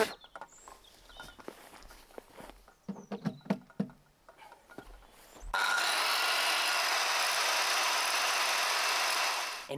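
A power tool cuts through wood while running from an EcoFlow Delta Max portable power station, with a loud, steady cutting roar that keeps going after a few sharp knocks and scraping sounds near the start.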